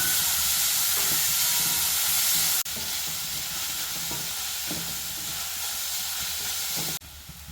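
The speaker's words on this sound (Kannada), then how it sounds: "ಈರುಳ್ಳಿನ ಚೆನ್ನಾಗಿ ನಾವು ಫ್ರೈ ಮಾಡ್ಕೋಬೇಕು" Finely chopped onions sizzle and hiss steadily in hot oil in a pan, loud and close, with stirring scrapes breaking in now and then and no voices over the frying.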